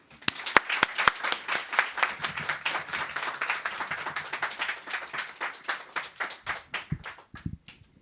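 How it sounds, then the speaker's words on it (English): Audience at a poetry reading applauding to welcome a speaker to the podium: a burst of close, sharp claps that settles into steady, dense applause before thinning out and fading near the end. "we should give a huge round of applause and welcome to Janice Lowe"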